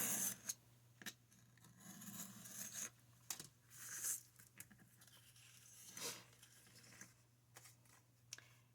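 Scissors snip through paper while trimming a file folder, a series of close, crisp cuts in an irregular rhythm with faint rustling of the sheet between them and a steady low hum underneath.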